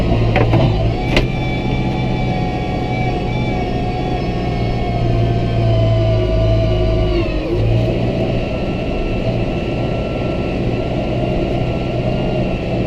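An off-road vehicle climbing steep land in 8th gear with the diff lock engaged, its engine roaring loud and steady under load throughout, with a brief dip in pitch partway through as it strains.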